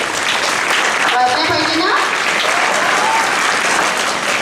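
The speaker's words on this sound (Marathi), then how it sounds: "टाळ्या वाजल्या" Steady audience applause at a school foundation day ceremony during an honouring of guests, continuous crowd clapping throughout, with a voice speaking briefly over it.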